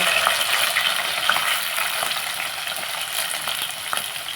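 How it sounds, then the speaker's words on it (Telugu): Onions with green chillies frying in heating oil for an egg and curd curry, a steady dense sizzle and crackle running unbroken throughout at close range, with small pops scattered through it and no voices. "ఉల్లిపాయలన్నీ కూడా మనం వేపుకుందాం అన్నమాట ఇదిగోండి ఆయిల్ హీట్ ఎక్కుతుంది కదండి"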